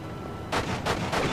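Gunfire in the PS2 game Enter The Matrix, three sharp broadband shots spaced roughly evenly over a low rumbling background, fairly loud and without any talking.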